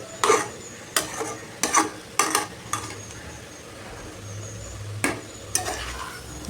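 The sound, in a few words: stirring ridge gourd stir-fry with grated coconut in pan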